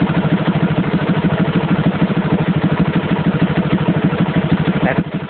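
A motorcycle engine with a Rextor CDI, ignition timing retarded, idles at around 1500 rpm in a steady, rapid, close thrum that dips slightly near the end, with no talk.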